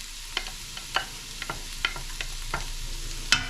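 Garlic dropped in with onions frying in a pan, a soft steady sizzle with sharp little crackles and taps scattered throughout, close and fairly quiet, no talking.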